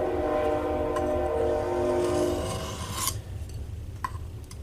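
Sustained rasping of a file drawn along a knife edge while sharpening, steady grinding with a tonal ring for a couple of seconds, then softer scrapes and a few brief clicks, close up with no speech.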